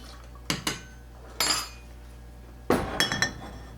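A barspoon stirs a 1888-style martini with dry vermouth over ice in a mixing glass, giving a few separate clinks and a short rattling run near the end, close and clear against a quiet room.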